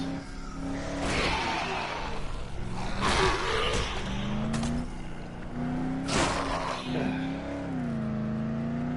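Pickup truck climbing a hill in the Dead Island video game, the engine droning and revving as pitch rises and dips, with brief tire squeals, loud and continuous.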